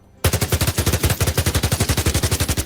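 Rapid automatic gunfire rings out in a shooter video game with a new scope, a loud, close burst of about thirty evenly spaced shots starting abruptly and running without pause.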